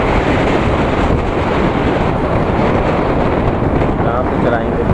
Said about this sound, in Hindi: सुबह सुबह एकदम ठंडी हवा चल रही है